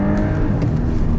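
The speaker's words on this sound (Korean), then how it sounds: "이 가속하는 이 속도 증가량은 굉장히 높은 편입니다" An Audi A7 55 TFSI accelerates with a steady, loud engine drone and rising road and wind noise, heard continuously from inside the car with no talking.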